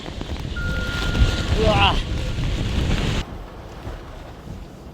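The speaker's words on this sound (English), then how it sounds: "それほど今風が強く吹いています。" Strong typhoon wind roars and buffets the microphone during a storm in Tokyo, a loud steady rush with gusts, while a person briefly exclaims; the roar drops sharply near the end.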